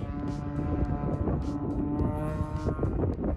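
A Toyota AE86 with a 3S-GE engine circles steadily in second gear, its engine holding a constant droning note for the whole stretch, with wind buffeting the microphone.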